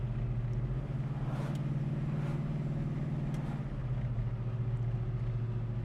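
A 1971 Chevrolet Chevelle is driven along with a steady low engine drone and road rumble. The tone shifts slightly partway through as the car slows, and no voices are heard.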